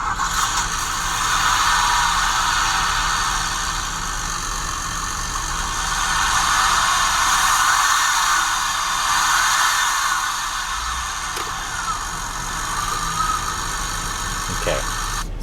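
A DeLorean car engine runs steadily at idle after starting, a continuous mechanical drone with faint ratcheting and whirring, heard at a moderate distance with a voice speaking over it.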